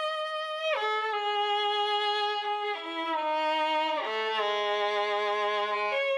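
A Falcon Bohemian violin sample with the reverb removed, playing a dry melodic pattern of sustained bowed notes that slide between pitches, clear and close, with no talking.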